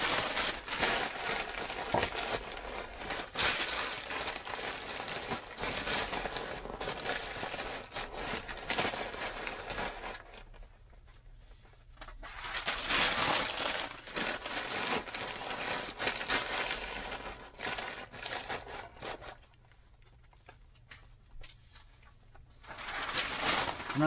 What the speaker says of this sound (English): Now I'll just stuff some paper over the top.